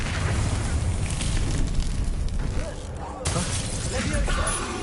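Bombarda spell blast in the Hogwarts Legacy video game, a dense, loud roaring burst of explosive noise that rumbles continuously, dips briefly, then surges again amid combat effects.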